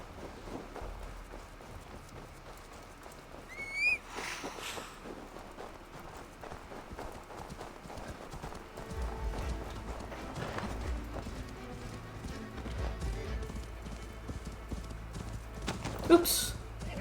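Horse hooves clip-clopping in the video game Assassin's Creed Valhalla, a steady rhythmic trot running through the clip at moderate loudness beneath game sounds and someone talking.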